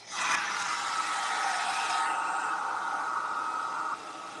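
A hair dryer blowing on wet spots of B7000 glue, a steady close airy whoosh that shifts in tone partway through before easing off at the end, with no talking.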